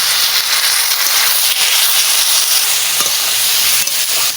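Water splashed into soybean chunks and ground spices frying in a pan, a loud, close, continuous hissing sizzle with steam that holds steady without pause.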